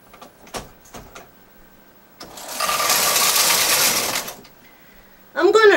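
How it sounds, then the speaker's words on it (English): A Brother knitting machine carriage, fitted with a ribber, slides across the bed to knit a single row in a smooth, steady mechanical whir lasting about two seconds, framed by a few soft clicks before it and a voice afterward. "knit 1 row"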